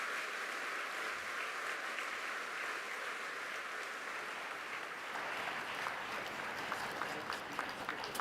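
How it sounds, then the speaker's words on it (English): Audience in a large hall at the Africa Climate Summit opening ceremony claps in sustained, dense applause, with a faint steady tone underneath early on and crisper individual claps emerging near the end. "One more round of applause to all the speakers who have spoken so well."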